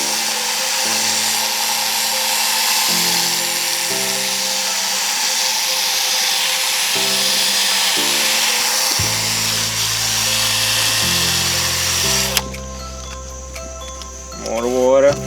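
A steady high whine of a power drill wet sanding a car headlight runs continuously, shifting pitch slightly, close and loud, with a brief burst of higher squealing near the end.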